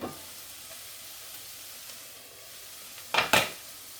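Garlic hits a hot pan while cooking lamb kofta curry, giving a soft steady sizzle, then two sharp stirring scrapes close up near the end; no talking.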